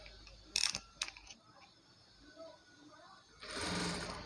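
A sewing machine stitches a Punjabi dress top. Two quick short bursts of mechanical whirring come first, then a pause, then a longer steady run at the end, all close and fairly quiet.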